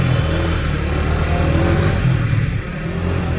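A TVS Apache RTR 4V motorcycle engine revs loud and close, holding a steady, throaty drone throughout with a slight dip near the end.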